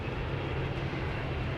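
Seraph aircraft engine at cruising throttle in the video game Halo 3, a steady, dense roar with a strong low rumble holding constant throughout, close and alone.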